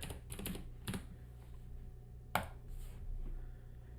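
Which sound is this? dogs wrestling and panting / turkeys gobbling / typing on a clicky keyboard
typing on a clicky keyboard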